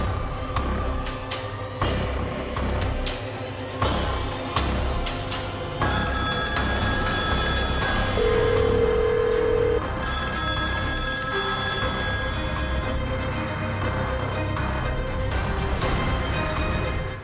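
A telephone rings repeatedly over a busy television-drama background of music and ambient sound, with ringing bursts recurring across the stretch.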